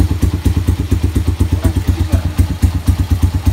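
A motorcycle's exhaust pops and thumps in a fast, steady rhythm, loud and close, like an engine idling or running nearby.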